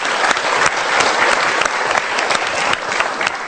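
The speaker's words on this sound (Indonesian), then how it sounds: "Kita berikan tepuk tangan dulu" A studio audience at an Indonesian motivational talk show claps loudly and steadily, dense applause filling the whole moment without any voices on top.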